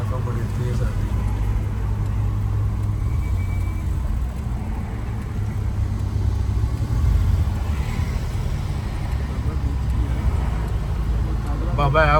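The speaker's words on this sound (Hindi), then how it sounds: "ट्रैफिक बड़ी तेज आती है।" Fast road traffic rolls through Tashkent city, a steady, fairly loud low rumble of passing cars and engines that continues without a break.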